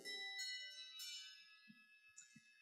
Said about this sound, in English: On her left is a set of Pettit and Fritzen handbells from Holland, and they sound like this.